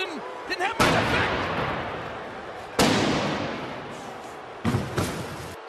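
During a Smackdown 2000 wrestling segment, Rikishi batters Stone Cold's truck with a bar. Three loud metallic crashes land seconds apart, each ringing out and fading, while commentators talk over a crowd.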